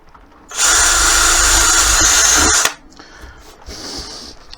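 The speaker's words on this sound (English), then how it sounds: "and I'm going to drill through this one." Electric drill boring through a piece of wood for a workshop clamp rack: a single loud, continuous whine lasting just over two seconds, close by, stopping abruptly and leaving faint workshop noise.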